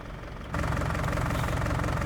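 A Fiat tractor engine idles in Farming Simulator 19, a steady close mechanical rumble that jumps abruptly to a louder, fuller drone partway through and holds there evenly.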